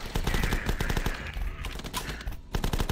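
Uzi fire in The Last Stand video game, dense rapid bursts of loud close gunshots that keep rattling with only brief gaps.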